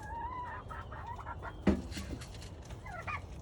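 Chickens in a backyard homestead coop cluck and call close by in short, irregular bursts, with one sharp knock partway through and no talking.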